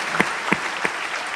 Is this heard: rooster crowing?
no